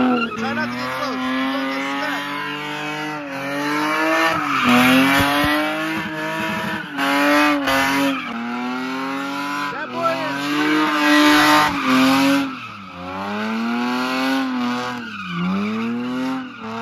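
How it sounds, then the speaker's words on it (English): Ford Mustangs rev and race past with long, wavering tire squeals and skidding, loud and close, rising and falling in pitch across repeated passes while people chatter and shout over the engines. "Another Mustang."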